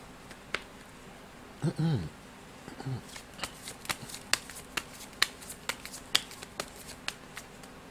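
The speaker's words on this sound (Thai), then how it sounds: "ต่อไปอยากจะมาเสี่ยงไพ่ให้เพิ่มเติมนะครับ" A deck of fortune-telling cards is shuffled up close, with a longer riffle and then a run of crisp, evenly spaced card slaps and flicks, each one distinct against a quiet background and with no voice heard.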